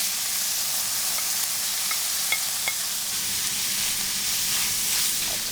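Beef wrap filling with salsa and cilantro sizzles steadily in a hot pan while being stirred, with a constant frying hiss and a few faint scrapes and clicks throughout. No one speaks.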